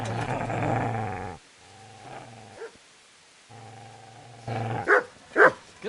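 A dog in the medieval game Kingdom Come growls in low sustained bursts, then barks twice sharply near the end, close and fairly loud.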